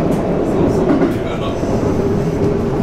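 A JR West Kyoto Line train pulling into Kyobashi Station, heard from the cab: a steady, loud rolling rumble of wheels and motors with faint rail clatter, continuous throughout.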